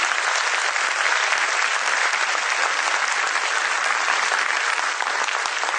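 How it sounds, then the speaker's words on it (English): Parents at a junior school annual function give a big round of applause for the children, a loud, dense and unbroken wall of clapping from a large audience lasting several seconds. "can we hear one big round of applause for all the children, for all the children?"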